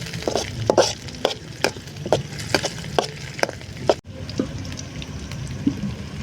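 A ladle stirs green chilies into pepper chicken frying in a pan, scraping and clattering in a series of sharp knocks over a low sizzle. The knocks pause briefly before the stirring resumes more softly.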